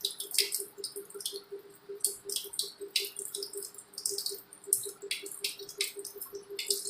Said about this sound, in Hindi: फिर हाथ धोएंगे।